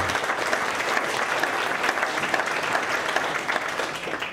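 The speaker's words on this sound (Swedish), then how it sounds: "En applåd till Lena" Audience applause at a Swedish book launch on climate solutions, a steady dense wash of many hands clapping throughout without pause, no talk over it.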